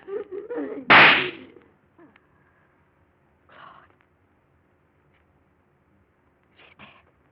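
A single loud, close gunshot in an old radio drama bursts out right after a woman's anguished cry, then fades into quiet broken by a few muffled shuffles and knocks.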